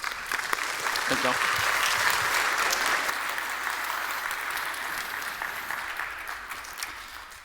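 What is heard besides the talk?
audience round of applause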